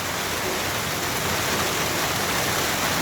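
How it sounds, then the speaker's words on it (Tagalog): Sudden steady, dense rain pours down beside a river in a constant hiss, loud and close, with no breaks. "Ay biglang umulan po."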